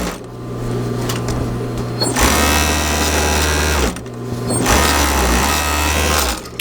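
A serger trims thread along the seam of a wool blanket shirt, running in two loud, close bursts of whirring motor and rapid blade chatter separated by a short slowdown.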